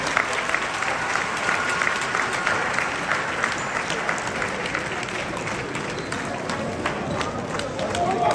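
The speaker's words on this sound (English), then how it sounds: "Sounding round of applause to celebrate." A crowd applauds steadily at an Asante cultural gathering after a prayer, a dense, continuous wash of clapping that stays loud and even throughout.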